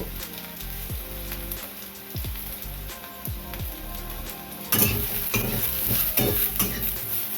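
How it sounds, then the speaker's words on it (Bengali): Continuous close sizzle of eggplant frying with salt and turmeric in a little oil over low heat, with repeated utensil scrapes, growing louder and crackling more intensely partway through. "এবার এটা কম আঁচ করে বেগুনটা ভেজে নেবো অল্প তেলে"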